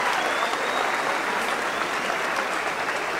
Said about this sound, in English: Some applause from the crowd.